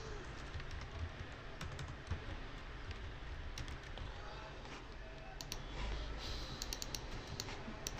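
Fingers type on a computer keyboard while designing a flyer, producing faint, quick irregular clicks against a soft background hum.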